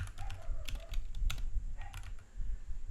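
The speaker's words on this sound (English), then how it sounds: "if I type" Keys clatter on a computer keyboard in a quick, uneven run of close, crisp taps with short pauses, no voices over them.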